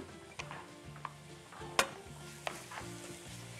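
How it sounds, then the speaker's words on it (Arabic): Cubed chicken breast and meat frying in a pan with onion and pepper, a close, steady sizzle broken by several stirring scrapes and clinks of a utensil against the pan. "واللحمه بتاعتنا على النار"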